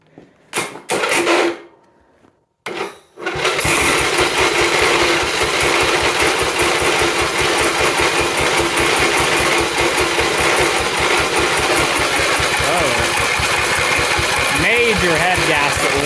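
John Deere 110 lawn tractor with an 8hp engine, started with the choke on after a few brief cranking bursts, then running loud and steady with a rapid rough chugging idle close by.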